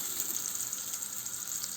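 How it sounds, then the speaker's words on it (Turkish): Solid cooking fat sizzles in a pan, ready for frying orzo vermicelli for Turkish rice pilaf, with a soft, even crackle and hiss close by, brief and steady, with no speech. "Şimdi önce şehriyemi, arpa şehriyemi kızartacağım."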